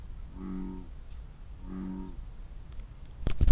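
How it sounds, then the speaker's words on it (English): A bullfrog calls twice along a San Diego River trail in Mast Park, Santee, each a loud, low groaning note with a pause between. A burst of rustling handling noise follows. "the call of a bullfrog. So there's probably a big bullfrog in there because that was a very loud and low groaning"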